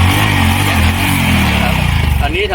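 A motorcycle engine idling loud and close, given a slight throttle as the clutch is released, its low rumble holding steady and then wavering into an uneven chug near the end.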